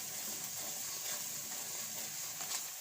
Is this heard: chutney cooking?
yes